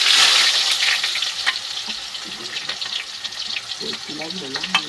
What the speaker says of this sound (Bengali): বন্ধুরা তো পেঁয়াজ দিয়েছি এবার একটু নেড়ে নেব